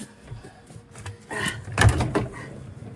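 Inside an Airstream Interstate 24GT camper van, a drawer slides open and shuts, a brief rolling slide ending in a firm knock, heard close and alone.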